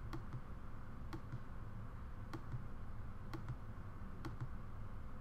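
Keys tapped on a computer keyboard while a patch is built in a visual programming environment, a few sparse clicks spaced about a second apart over a steady background hum, no speech.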